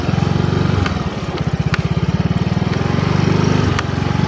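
Motorcycle engine running steadily while riding on a rural farm road, a loud, close, pulsing exhaust drone with regular rapid firing beats and slight shifts in pitch as the throttle changes.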